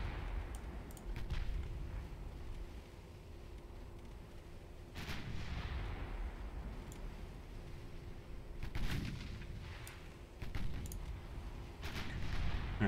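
Warship guns firing in the naval battle game Ultimate Admiral Dreadnoughts: repeated deep, distant booming salvos at irregular intervals over a low rumbling sea-battle ambience, with a few sharper cracks among them.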